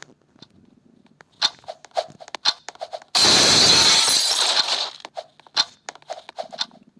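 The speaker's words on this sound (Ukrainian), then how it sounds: "В принципі, звук стекла тут от такий." A loud burst of shattering glass lasting about two seconds, crashing and crunching, set among short sound effects before and after from the Roblox Glass Bridge game.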